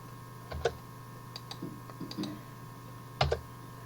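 A few sparse, crisp computer keyboard clicks at an unhurried pace, with small pauses between presses, heard close over a steady low electrical hum.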